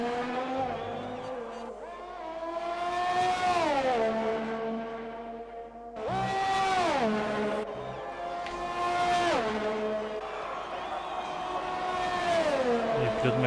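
A McLaren race car on a track lap in a simulated race in Azerbaijan, its high engine note climbing through gears and dropping on braking in repeated sweeps, loud and steady with commentary voices faint underneath.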